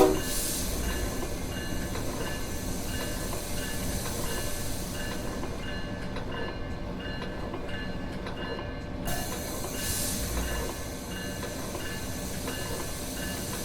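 A MARC Penn Line electric commuter train runs in Train Simulator, giving a steady rumbling hiss of wheels and mechanisms throughout, with no voices.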